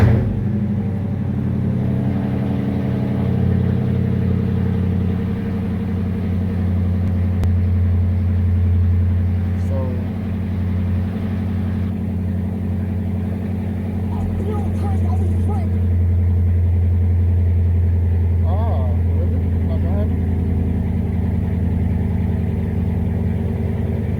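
A Dodge Charger rumbles through a cold start and settles into a steady, loud idle with a deep droning hum, a few slight rises in pitch, and someone talking over it now and then.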